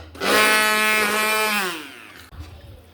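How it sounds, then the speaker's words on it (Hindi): A hand blender whirs for about a second and a half with a rising motor tone, then winds down and stops. "इस हैंड ब्लेंडर का भी अपना ही मज़ा है"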